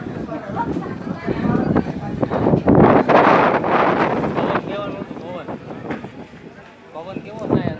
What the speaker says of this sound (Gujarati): ગજબનો પવન થયો